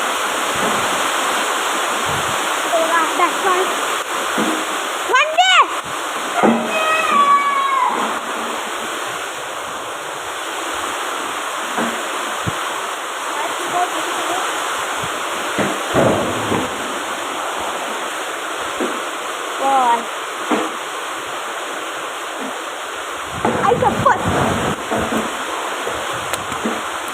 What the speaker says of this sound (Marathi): काय पाऊस पडत आहे बघा.